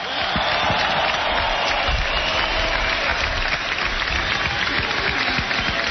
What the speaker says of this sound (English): Let's give both fighters a round of applause.